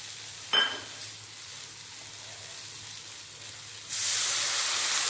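Turmeric and cumin powder sizzle with melted tomatoes in a pan, a soft frying hiss with a brief clatter early on, then a sudden louder, steady sizzle near the end.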